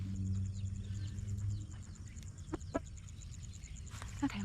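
Chickens in a small outdoor pen cluck faintly and intermittently against steady background noise.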